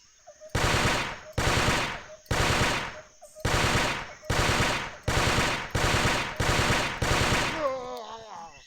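A burst rifle fires in the video game Carnivores Fallen Kings: eight loud, evenly spaced bursts of rapid shots ring out close, each with a short decaying tail, before a final fading echo.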